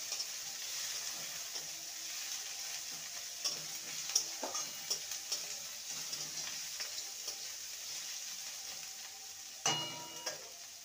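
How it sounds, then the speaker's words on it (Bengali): Chopped onion fries lightly in a pan with a soft, steady sizzle, broken by occasional clicks and scrapes of stirring and a louder clatter near the end. "পেঁয়াজটাকে হালকা ভেজে নেব"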